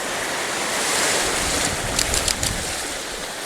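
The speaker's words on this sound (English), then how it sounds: "There's a nice wave coming now, hopefully." Sea waves wash steadily into Ballydowane Cove on the Copper Coast, a continuous broad roar of surf with wind, swelling slightly and broken by a few brief splashes near the middle.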